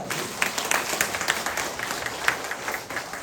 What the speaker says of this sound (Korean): 박수 한번 쳐야 되겠죠?